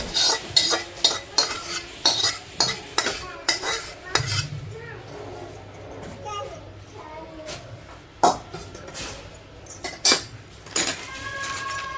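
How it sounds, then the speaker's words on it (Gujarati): Wheat flour, ground gond and gram flour being mixed together for methi and gond laddu, heard as a dense run of scraping, clinking stirs against a bowl, fairly close and steady with short pauses and no talk. "આ છે ઘઉંનો લોટ, એના ઉપર છે દળેલું ગુંદર અને આ બીજું છે ચણાનો લોટ. 3 વસ્તુ મિક્સ કરી."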